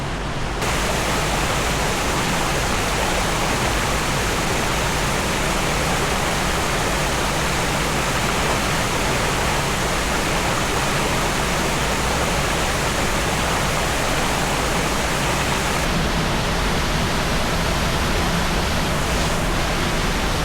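Ice-cold creek in the Laurel Highlands rushing steadily, a loud close broadband wash of flowing water that runs unbroken throughout.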